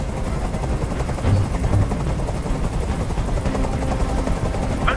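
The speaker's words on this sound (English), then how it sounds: "Tell that helicopter to get out of here!" A helicopter hovers in the video game Detroit: Become Human, a steady loud rotor roar with rhythmic chopping that fills the whole stretch.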